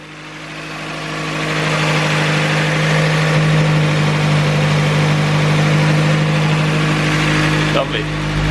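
A Datsun Sunny engine runs and idles close by, a steady low hum that swells slightly, with voices talking faintly underneath.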